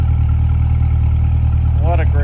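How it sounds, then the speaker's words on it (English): A 2021 Corvette C8 Coupe 2LT with Z51 and the NPP exhaust idling, a steady, loud, low rumble, with a short voice near the end. "And then we got the NPP exhaust at idle there."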